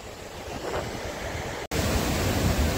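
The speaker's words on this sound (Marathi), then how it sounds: "पाण्याचा जास्त आवाज येतं. तुम्हाला लाटा दाखवता येतं बघा, कशा उडता बघा लाटा." Sea waves crash and surge at Harnai beach near Dapoli on the Konkan coast, a dense continuous roar of surf and wind, briefly cut before resuming just as loud.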